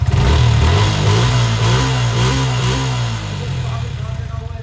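A Suzuki GSXR 150 motorcycle on its original exhaust runs with a quiet, smooth engine note that rises slightly and settles back, heard up close, with someone speaking over it.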